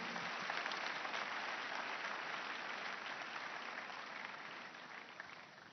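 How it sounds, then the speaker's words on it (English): Sustained audience applause fills a church testimony service honouring Jesus Christ, a dense, steady wash of many hands clapping that holds strong throughout and eases only slightly toward the end. "let's clap for Jesus Christ"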